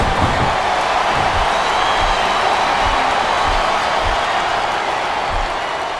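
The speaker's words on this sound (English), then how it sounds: "Sounds like this crowd's got something on their minds, King." A large crowd roars in a steady wash of noise in the wrestling game WWE SmackDown vs. Raw 2007 on Xbox 360, with scattered thuds and impacts beneath it.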